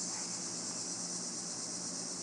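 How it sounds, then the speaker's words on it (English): Cicadas calling outdoors on a summer afternoon, a continuous high, hissing buzz held steady and fairly faint, with no talk. "got the cicadas now sounding off"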